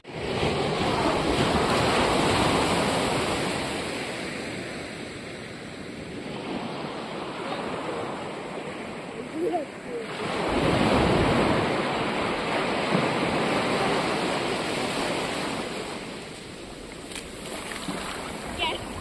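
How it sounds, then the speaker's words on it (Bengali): Sea surf at high tide on Dublagadi beach in Balasore rolls in as a continuous broad roar, swelling and easing in waves, with wind buffeting the microphone throughout. "কি ঢেউ দেখুন, আপনাদের দেখাই, আর ঢেউয়ের গর্জনটাও শুনুন।"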